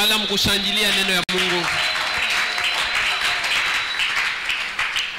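A church congregation applauds and cheers as people sit back down, a broad steady wash of clapping that begins under a speaking voice and carries on alone after a brief cut.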